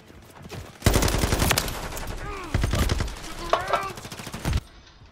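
Gunfire in the Modern Warfare 3 video game, a loud rapid burst of close automatic shots with further bursts following, while a voice calls out over the shooting.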